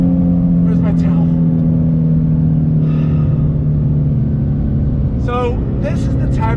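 A 2019 Ford Shelby GT350 Mustang pulls hard in third gear, its engine a loud, steady droning rumble throughout, with brief voices breaking in over it.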